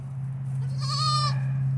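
A single goat's bleat on a farm, one clear wavering cry lasting about half a second, heard close over a steady low hum.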